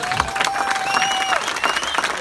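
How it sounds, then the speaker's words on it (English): Applause at a rally round finish as a leg winner is announced, moderate clapping spread through the whole moment with a faint tonal whine running across it and occasional louder claps. "So, round of applause"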